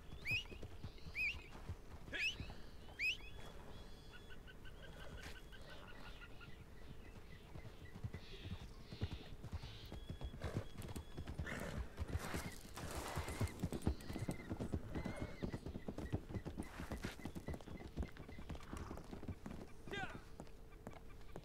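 Horse hooves clip-clop steadily in Red Dead Redemption, with several whinnies and neighs rising near the start, while players' voices talk over the ride.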